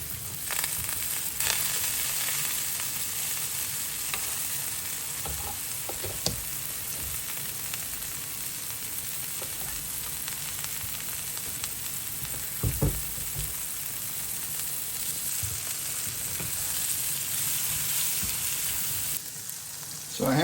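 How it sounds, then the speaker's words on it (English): Mushrooms frying in butter in a pan give a steady, close sizzle and crackle that runs unbroken for about twenty seconds, with occasional stirring clatter and no talking. "Cook them up with some butter."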